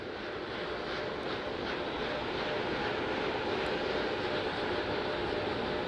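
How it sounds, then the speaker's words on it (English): SLS core stage with four RS-25 engines gimbaling during a thrust vector control actuator test before the Artemis launch, November 2022: a steady, loud broadband rushing roar that holds unchanged throughout with no voices. "The 4 core stage RS-25 engines gimbaling around, testing the ability to steer the rocket into space."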